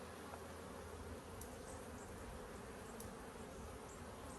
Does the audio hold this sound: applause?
no